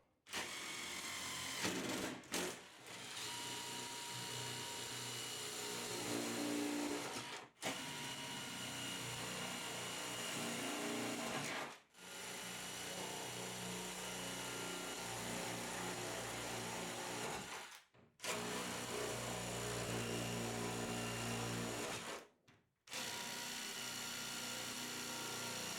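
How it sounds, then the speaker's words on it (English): Power drill boring holes during a shower door installation in a bathroom makeover, a steady whirring drone in several long runs separated by brief pauses. "And drill my first hole."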